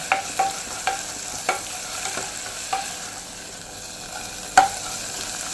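Drumstick leaves curry being stirred and fried in a pan, a continuous close sizzle broken by repeated scraping strokes of a spatula at an uneven rhythm, with no talking.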